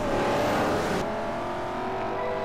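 A BMW E46 all-wheel-drive race car with a 6-speed gearbox roars in the Forza Motorsport 4 video game. The engine is loud and dense for a moment, then eases slightly to a steady drone.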